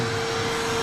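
A shop vacuum running as the dust collection system for a Harbor Freight blasting cabinet, a steady loud whine with an even drone, close and alone.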